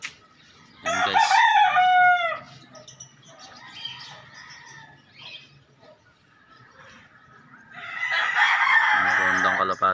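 A red rooster crows twice, close and loud, once near the start and again near the end, with soft clucking, scattered bird chirps and quiet background voices between the crows.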